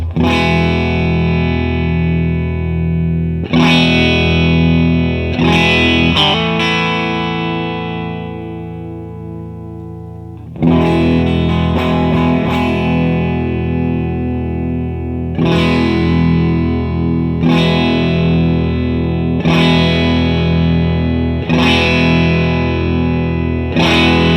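An electric guitar runs through an Earthquaker Special Cranker boost/overdrive pedal, playing loud, driven sustained chords that ring out, fade and are restruck in a steady, unhurried rhythm, with no talking.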